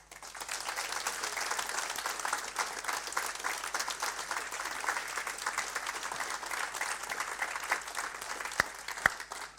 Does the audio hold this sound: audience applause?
yes